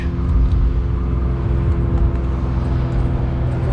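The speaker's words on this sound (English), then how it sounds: "So your throttle slowly going back till eventually cams over and you're at idle." A 1968 Ford F350 engine with an Edelbrock 1406 carburetor settling back toward idle as the throttle eases off, a steady low rumbling hum with a slight uneven pulse, close and fairly loud.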